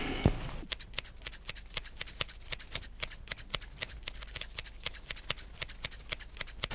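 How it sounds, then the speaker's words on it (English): Hand shears prune a pear tree grown as a spindle in a garden, snipping in a quick, regular run of crisp close-up clicks, about three per second, after a brief rustle. "I'm going to give my pear spindle its first ever pruning"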